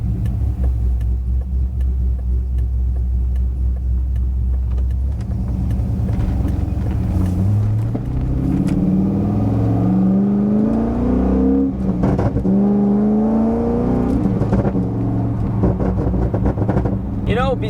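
A Corvette engine fitted with aftermarket headers and an X-pipe exhaust revs loud and close, its deep rumble climbing and falling through several throttle blips over a steady idle.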